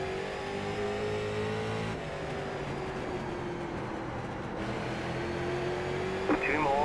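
Street stock race car engines in the iRacing simulator at Slinger Speedway, a continuous loud, droning roar with shifting pitch as cars circle the track, and a voice talking over it.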